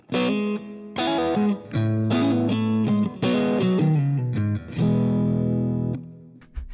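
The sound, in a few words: guitar playing three chords differently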